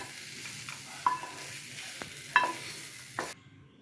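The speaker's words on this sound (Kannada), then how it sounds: "ಈರುಳ್ಳಿ, ಮಾವಿನಕಾಯಿ ಎರಡು ಹುರಿತಾ ಇದ್ದೀವಿ ನೋಡಿ" Onion and raw mango frying in a pan: a soft, steady sizzle with a few sharp stirring scrapes and clinks, close by, ending abruptly.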